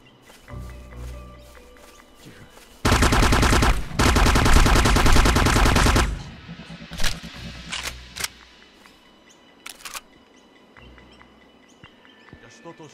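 Sustained loud automatic gunfire in the Nintendo Switch shooter Beyond Enemy Lines: Covert Operations, a dense three-second burst followed by scattered single shots and short volleys, with birdsong and ambient sounds between.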